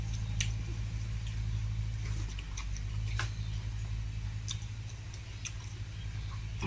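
Chewing on fried fish, bones and all, with soft squishy bites and occasional crisp ticks over a steady low hum; no talking.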